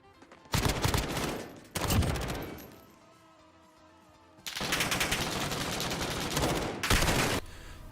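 Rapid automatic gunfire in a Modern Warfare clan-war match, with two short dense bursts followed by a longer sustained stream of shots, loud and close, with no talking.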